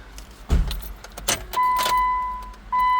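Keys jangle close by, then a car with a stored P0032 oxygen-sensor fault and a manual transmission cranks and catches, followed by steady dashboard warning chimes and a settling idle.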